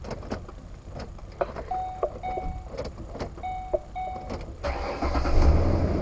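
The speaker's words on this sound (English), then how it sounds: "It starts the truck," A 2008 Ford Explorer with a key stuck in the ignition, heard through a few soft clicks and a repeating chime, then a short engine start near the end, fairly quiet.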